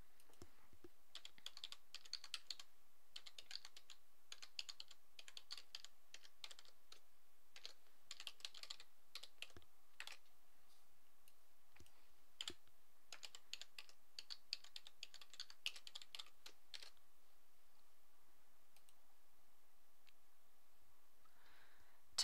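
Fingers type a username and password on a computer keyboard, giving a long run of soft, quick clicks in bursts with short pauses, close and quiet, with no voices.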